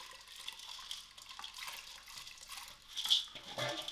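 Washed samp being poured into a pot of hot water, a soft, faint splashing and trickling that swells toward the end in a quiet kitchen.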